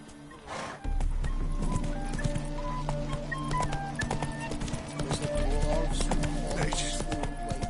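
Roach, Geralt's horse in The Witcher 3, gallops with a steady, driving hoofbeat rhythm and whinnies, while a person talks over the sound and a music bed plays underneath.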